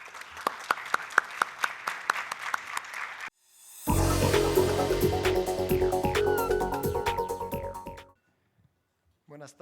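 An audience in a hall applauds a panel of speakers: a few sharp separate claps at first, then a brief pause and a loud, dense burst of clapping from the crowd that runs several seconds before stopping abruptly.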